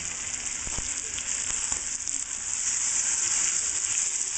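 Italian herb pork steak just flipped in a hot pan, a steady close sizzle and crackle running without a break, with a few sharper pops early on and no talking.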